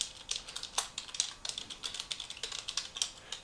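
Rapid, uneven keystrokes on a computer keyboard as login credentials, an email address and a password, are typed in, close and clear with short pauses between bursts and no talking.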